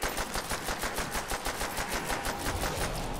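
Rapid automatic gunfire in Call of Duty: World at War, a steady burst of evenly spaced shots rattling on for several seconds without any voices.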